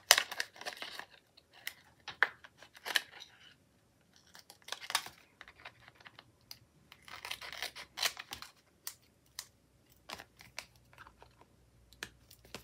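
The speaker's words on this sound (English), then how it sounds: "up here, I'm just going to hand trim it." Scissors hand-trimming a decorative planner sticker: close, crisp snips in irregular bursts with short pauses, some quick runs of cuts and faint rustling of paper between them.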